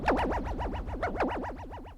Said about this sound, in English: Now with the shape set to sine wave, this is going to sound pretty terrible.